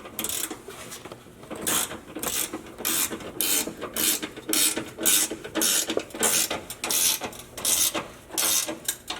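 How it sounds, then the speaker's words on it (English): Ratchet wrench with an 18mm socket snugging bolts while installing a Synergy track bar and sector shaft brace on a Jeep JLU, giving repeated bursts of close, rapid metallic clicking in a steady back-and-forth rhythm. "I'm going to go ahead and tighten them up just a little bit with this 18mm"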